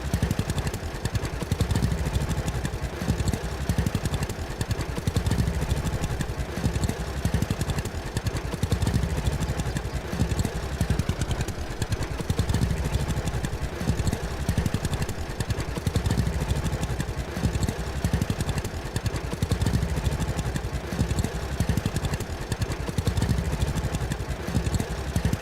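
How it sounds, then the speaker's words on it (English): A tractor engine in the farming game Farmers Dynasty runs steadily for the whole stretch with a rough, uneven low-end chug that suggests a misfire, loud and continuous with no talk over it. "So the tractor needs a tune-up. Sounds like it's missing."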